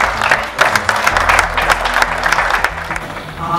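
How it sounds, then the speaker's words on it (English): A room full of people at an annual learning summit gives a hearty round of applause, dense clapping over a low hum, steady for a few seconds with some crowd noise. "give yourselves a huge round of applause"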